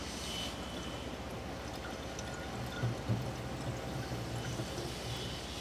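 Filtered drinking water pours steadily into a tank aboard a cruise ship, a continuous hissing splash that stays even throughout, with a faint low machinery hum beneath and no speech.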